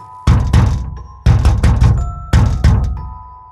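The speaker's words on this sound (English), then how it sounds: "violent banging starts on the office door" Violent banging on an office door in a horror story: three loud bursts of heavy thuds, each a few rapid pounding blows, close and forceful, with a faint tonal drone underneath.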